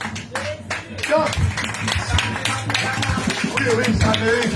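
Applause and clapping from a church congregation during a French-language sermon, scattered claps running under a preacher's continuous loud talking.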